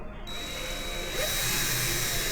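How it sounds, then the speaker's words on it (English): A power drill twists a length of copper wire, giving a steady, close whine that holds at one level throughout without pause, with no speech over it. "I'm going to hold some tension on my drill"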